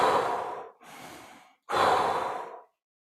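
Slow, deliberate breaths of a normal qigong breathing exercise: a long inhale, a softer pause-like exhale, then another full breath, close and alone with no talking.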